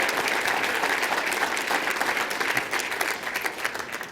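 A room of guests at the AAU Sullivan Award ceremony at the New York Athletic Club breaks into sustained applause, a thick, even wash of clapping that continues throughout and eases slightly toward the end.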